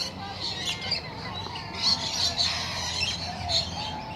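Pet birds indoors giving repeated sharp squawks and chirps, some near and loud, others softer, scattered over a low room background with faint human sounds.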